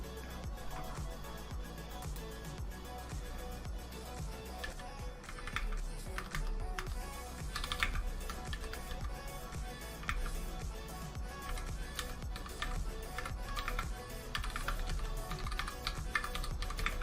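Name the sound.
typing on a new computer keyboard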